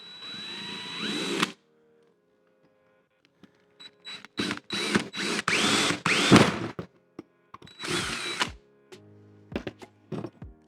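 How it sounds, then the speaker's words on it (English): A power drill bores holes into a metal brew pump bracket in several loud, close bursts: one at the start, then a cluster of short repeated whirs, and a final burst, with quiet gaps and small handling clunks between them. "And now we will drill our holes into this carefully."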